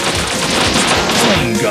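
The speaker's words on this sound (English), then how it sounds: "Red gun." Red gun firing in the video game Bot Vice, a dense, loud, continuous barrage of rapid shots with crashing impacts, no breaks across the short stretch.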